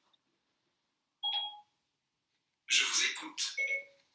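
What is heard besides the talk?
mobile phone beeping and dialing tones, switching on by itself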